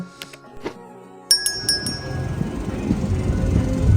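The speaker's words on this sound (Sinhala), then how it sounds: "ඔන්න ඉතින් ට්‍රේන් ජර්නි එක දැන් පටන් ගත්තා" A passenger train in Melbourne sets off, with a few bright metallic chimes and clinks at first, then a low rumbling roll of wheels on rails that builds steadily and fills the rest of the clip.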